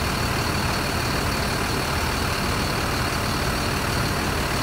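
A Sugeng Rahayu Euro 4 bus idles with its exhaust pointing down, a steady, dense engine rumble close by with no change in pitch and no talk.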